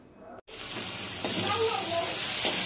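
Prawns frying in oil in a pan, a steady close sizzle and hiss that starts after a brief gap and holds loud and even to the end.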